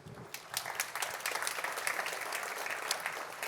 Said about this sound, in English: I get an applause for closing.